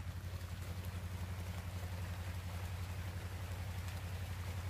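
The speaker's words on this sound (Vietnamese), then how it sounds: "nghe mưa không bạn?" Rain falls steadily in a fruit garden as a faint, even hiss, with a continuous low rumble underneath and no voices.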